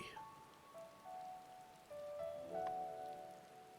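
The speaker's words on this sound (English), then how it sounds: "It's raining." Steady rain patters and hisses across the scene in Final Fantasy XIV, with faint tonal game sounds drifting underneath.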